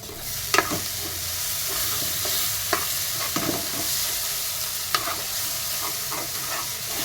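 Onions and masala with coconut, ginger and garlic fry in a pan in a loud, continuous sizzle, with occasional short spatula scrapes and clinks cutting through close by.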